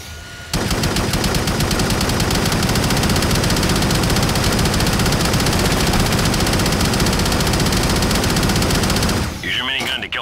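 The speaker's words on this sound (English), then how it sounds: "Remember, it needs to spin up to begin firing, so you keep that trigger down until you are the only thing still standing." Sustained, loud minigun fire from the 2007 video game Shadowrun, a dense continuous mechanical roar that kicks in after a brief start and runs unbroken for about nine seconds before cutting off abruptly.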